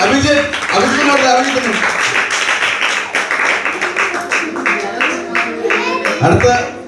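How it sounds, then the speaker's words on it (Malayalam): A crowd at a VBS 2022 gathering in Eruthavoor, Balaramapuram breaks into quick, scattered applause while an amplified voice talks over the start and end of the clapping. "നല്ല കൈയടി."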